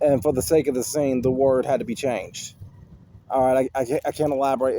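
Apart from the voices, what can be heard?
No distinct noise like a dog, phone or traffic.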